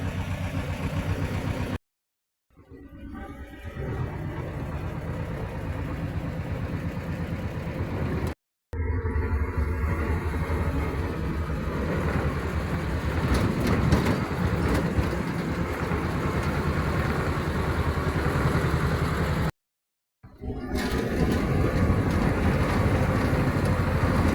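A vehicle engine runs and drives with a steady, loud, droning rumble, heard close, interrupted by brief silent cuts, with no talking.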